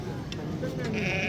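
A goat bleats briefly at a busy goat market, a short wavering cry amid constant crowd chatter and people talking nearby.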